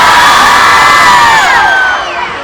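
A large crowd at a cultural festival cheers and screams loudly, a dense wall of high voices that holds steady and then begins to fade.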